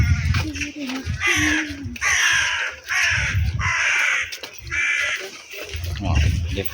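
Several crows caw loudly and repeatedly in a garden, squabbling over fruit, with harsh calls in bursts and a person talking nearby underneath.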